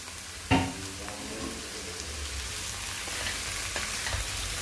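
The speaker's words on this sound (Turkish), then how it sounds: "Soğanlarım biraz kavrulduğu zaman Hemen kabaklarıma ekliyorum." Onions with garlic and chopped pumpkin sautéing in a pot for pumpkin soup give a steady, moderate sizzle, with a sharp utensil clatter near the start followed by continuous frying hiss.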